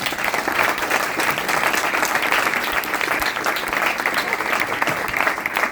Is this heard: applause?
yes